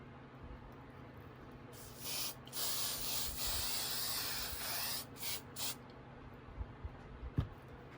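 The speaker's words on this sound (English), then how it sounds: "you just want to spray it one more time." Hairspray sprayed onto a glitter-coated craft Christmas gnome: a steady aerosol hiss lasting about three seconds, then two shorter bursts, close and fairly soft over faint background noise.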